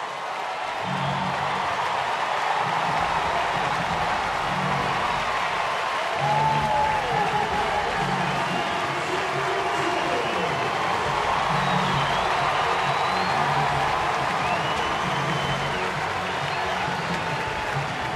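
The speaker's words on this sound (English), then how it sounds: "here comes a big cheer for Chipper." Baseball stadium crowd during a Cubs at Braves game on July 4, 2012, a sustained distant roar of cheering and applause for a batter, with a play-by-play announcer talking steadily over it throughout.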